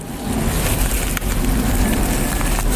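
Rain falls steadily on a rooftop during a stretch of rainy days, a dense, continuous patter and hiss that stays fairly loud throughout with no voices.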